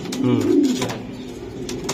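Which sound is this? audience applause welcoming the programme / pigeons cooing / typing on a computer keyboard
pigeons cooing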